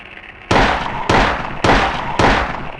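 Gunshots in the video game Silent Hill: four loud, evenly spaced blasts, each sharp and broadband with a short decaying tail, firing roughly every half second with no talk.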